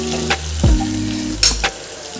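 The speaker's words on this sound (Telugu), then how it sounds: "ఆలుగడ్డ అనేది ఇట్లా ఉడికిపోతుంది మంచిగా ఉడుకుతుంది ఇట్లా ఆయిల్లోనే" Raw potatoes fry in oil in a pan, giving a steady close sizzle with a few louder bursts of crackle and spatter.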